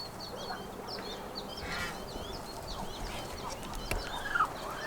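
Chickens in a backyard garden near a fence and a damaged flower bed, giving soft, scattered clucks and short calls at a distance over quiet outdoor background, with no talking.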